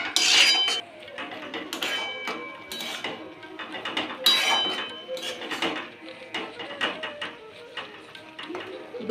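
Carrots simmering in milk in a pot for carrot laddu, stirred with a utensil that knocks and clinks against the metal in irregular bursts, close and fairly loud, with a voice speaking intermittently over it.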